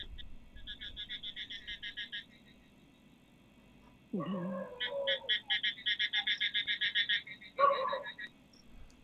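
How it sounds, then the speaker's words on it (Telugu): Frogs croak in rapid pulsing trains, pausing briefly, with a lower grating call breaking in midway; steady and fairly close, no talking. "కప్పలు అరుస్తున్నాయంటే అది ఆడకప్ప అండి యాక్చువల్గా"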